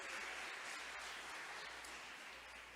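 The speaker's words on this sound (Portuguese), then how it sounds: "Vamos aplaudir o Senhor por isso?" A church congregation applauding during a sermon, a full continuous rush of clapping from many people, heard from a distance and steady from start to finish.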